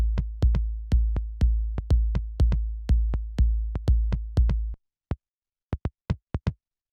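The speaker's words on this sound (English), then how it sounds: "It sounds like this with the kick drum." A punchy looped drum pattern with a heavy kick thumping steadily alongside crisp clicks, then cutting out and returning as a few isolated hits.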